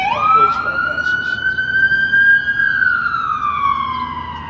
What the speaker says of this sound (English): we're going to wait till this police car passes.